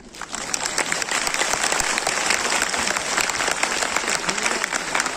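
A large hall audience at a company business presentation in Kolkata bursts into dense, continuous clapping, loud and steady for the whole stretch.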